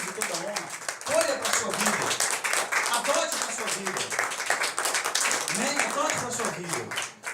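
A church congregation breaks into sustained applause, a dense patter of many hands clapping that continues with uneven swells while voices speak over it.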